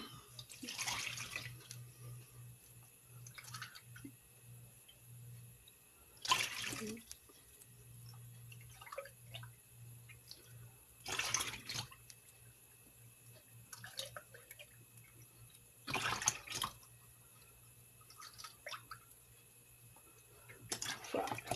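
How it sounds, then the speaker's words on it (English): Five cups of milk poured into a bowl of pudding mix for a Boston cream poke cake, a soft liquid pour with several distinct louder bursts spaced through it, over faint kitchen background. "I'm going to put in 5 cups of milk instead of 4"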